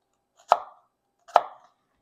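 Knife slices finely through a shallot on a cutting board, two crisp separate chops about a second apart, each a sharp close tap with a brief scraping tail.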